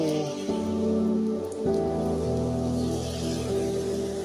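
Steady rain falls outdoors on a city street on an autumn morning, a continuous soft patter under tonal background sound with a couple of brief knocks, with no talking.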